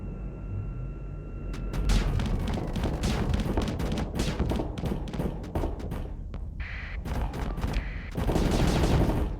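Weapon fire from two railguns fitted on a ship in a space combat game, rapid bursts of sharp cracks and booms firing almost continuously, loud and dense with short gaps.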